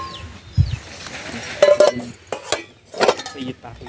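Metal plates, glasses, small cooking pots and a lid clink and clatter as they are picked up and set down, in short separate knocks and scrapes with quiet gaps between them.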